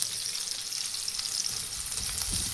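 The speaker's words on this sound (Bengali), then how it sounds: "এবার আমরা কড়াইতে তেল দিয়ে নেব। তেল দিয়ে আমরা পেঁয়াজগুলো লাল লাল করে ভেজে নেব।" Onions sizzle in hot oil in a wok, a steady close hiss of frying throughout with a slight low thump near the end and no voices.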